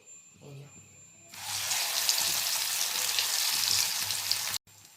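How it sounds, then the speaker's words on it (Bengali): Mustard flower pakoras drop into hot oil and break into a loud, steady sizzle of deep-frying that holds for several seconds, then cuts off abruptly; a quiet voice is briefly heard before the frying starts. "এ দেখো বন্ধুরা, সর্ষে ফুলের পকোড়া হচ্ছে"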